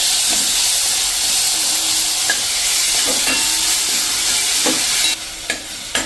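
Grated bottle gourd sautéing in a hot pan, a steady loud sizzle with a few clinks of a spoon stirring, ending in sharper scraping bursts.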